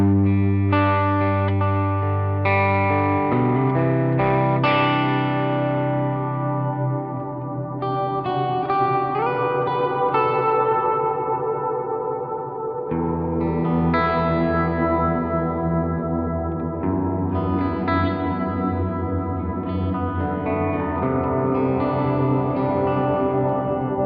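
Electric guitar played through a Line 6 HX One pedal set to reverb, chords and melodic lines ringing out with distortion, washy ambient tails and echoing decay, sustained and continuous with no talking.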